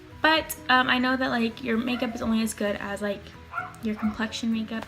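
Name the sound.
dog barking outside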